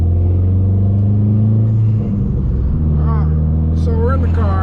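Inside a car driving on the road, a deep, steady engine rumble with a low drone fills the cabin as the engine shifts pitch partway through, and a person talks over it.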